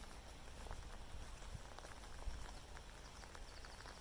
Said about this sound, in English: The rain's really coming in now.